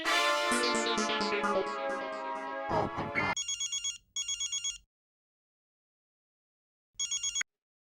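After a short burst of music, a telephone rings out for an outgoing call in the Hindi TV sitcom Taarak Mehta Ka Ooltah Chashmah: two bursts of electronic ringing, a pause, then a brief third burst.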